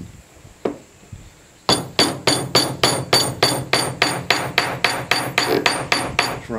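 A hammer pounding a metal hinge joint back together in a workshop: one isolated tap, a pause, then a steady run of about fifteen sharp, ringing metallic blows at an even rhythm, close and loud.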